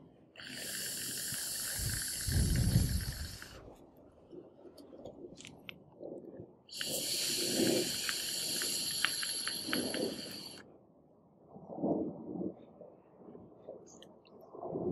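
Vapour hisses from a Taifun GS II clone dripper atomizer in two long, steady draws of about four seconds each, separated by quieter breathy rumbles and handling noise.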